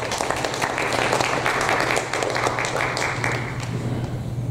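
Congregation applauding during a Sunday church service after a baptism and confirmation prayer, a steady dense wash of clapping with organ or keyboard tones sustained underneath.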